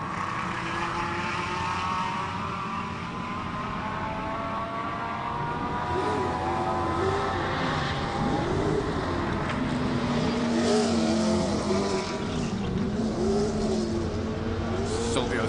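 Lamborghini Huracan GT3 EVO race car with a 5.2-litre V10 at a hillclimb, its engine note rising and shifting through the gears at steady loudness, with rasping harmonics and no talk over it.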